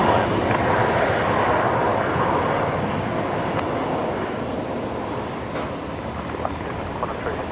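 Boeing 747 cargo jet landing at Brisbane Airport on runway 01 left, a steady broad engine roar that fades slightly as it passes, with a faint voice at times.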